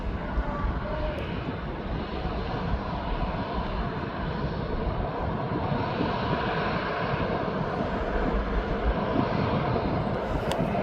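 Jet2.com aircraft at East Midlands Airport bound for Antalya, a steady broadband engine roar heard from a distance, with wind buffeting the microphone.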